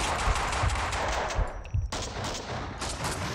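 Rapid bursts of gunfire from the video game Max Payne 2, loud and dense with repeated shots, a brief lull near the middle before the firing resumes steadily.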